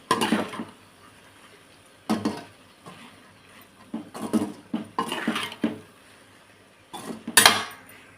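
Cooked rice and capsicum stirred in a metal pan, with intermittent bursts of spoon scraping and clinking against the pan separated by short quiet gaps.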